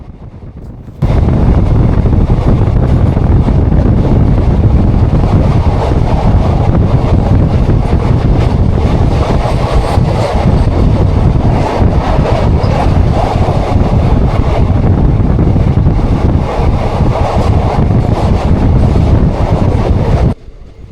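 The 12347 Sahid Express on the Howrah–Bardhaman main line passes Shaktigarh without stopping, heard as a loud, constant rumble and rattle of a running train with heavy wind roar, steady for about twenty seconds.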